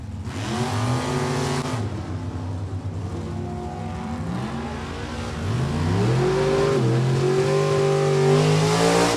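A Dodge-powered 1927 Ford Roadster drag car at a dragstrip roars loud and close, its engine climbing and falling in pitch through several hard revs and accelerations, with a steady rough mechanical drone throughout.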